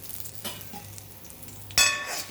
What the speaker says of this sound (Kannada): ಆಮೇಲೆ ಬಾದಾಮಿ ಇಂಗು ಎರಡು ಹಾಕ್ಕೊತಿದ್ದೀನಿ. ಒಂದೇ ಸರ್ತಿ ಹುರ್ಕೊಳ್ಳಿ, ಚೆನ್ನಾಗಿ ಹುರಿಬೇಕು.